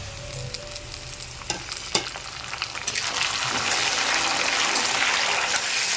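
Scattered clinks and scrapes give way to a sudden surge of loud sizzling as onion and tomato fry in a pan, hissing steadily to the end.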